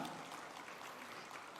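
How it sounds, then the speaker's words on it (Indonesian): An audience at an Indonesian political gathering applauds in a continuous, fairly faint patter of many hands, heard from a distance and steady throughout. "Tepuk tangan untuk Bang Idrus Marham,"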